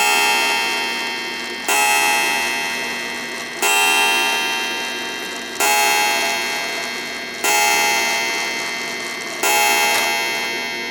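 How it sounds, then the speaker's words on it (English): An 1898 Seth Thomas kitchen clock strikes seven, its bell chiming loud and close at even intervals of about two seconds, each ring decaying slowly before the next. "Okay, it's striking 7."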